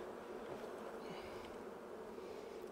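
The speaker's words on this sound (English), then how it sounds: "Yep, clear full of brood, lots of bees." Honeybees buzzing around an open beehive full of brood in Utah, a dense continuous drone of many wings close by, steady and even with no voices.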